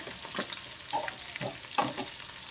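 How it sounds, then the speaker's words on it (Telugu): Green chillies frying in hot tempering oil for tamarind pulihora, a steady soft sizzle with a few louder crackling bursts, close up and without talk. "పచ్చిమిర్చి వేగనివ్వాలి."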